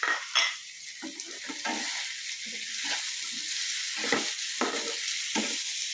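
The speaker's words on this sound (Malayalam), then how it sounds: "നമുക്ക് ഈ കപ്പ ഇതിലേക്ക് ഇട്ട് ഇളക്കി കൊടുക്കാം" Tapioca being stirred into melting sugar in a pan, with a steady sizzle beneath repeated scraping strokes of a spoon at close range, and no talking.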